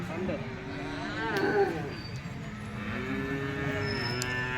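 Calf mooing repeatedly at a busy cattle market in Erode, with drawn-out bellows rising over steady crowd chatter and people talking nearby.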